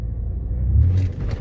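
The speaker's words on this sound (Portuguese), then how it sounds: "só para o carro" A car rumbles low and close as it drives and brakes to a stop, the engine drone swelling and then settling, with a faint rattle near the end and no voices.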